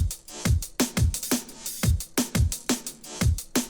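A programmed drum pattern from Geist layered with Impact in Studio One for liquid drum and bass thumps in a steady groove, punchy kicks and snares with full body, loud and alone with no talk.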